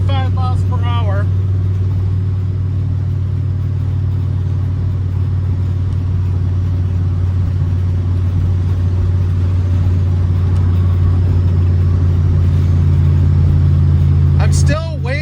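A 1960 Chevrolet El Camino cruising at about 65 mph, just over 2,000 RPM, with a steady low engine drone and road rumble filling the whole stretch, brief voice bursts at the start and end.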